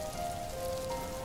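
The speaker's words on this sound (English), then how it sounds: "the moment it starts raining." Steady rain pouring down on a family trip in Singapore, a dense, even hiss of drops on surfaces with a faint tone running underneath.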